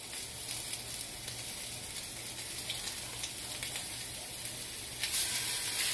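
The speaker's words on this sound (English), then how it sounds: "Now I'm going to break it up and I'm going to brown it." Loose sausage meat, squeezed out of its casing, sizzles and fries steadily in a pan, a close, continuous crackling hiss with a brief louder burst near the end and no talking.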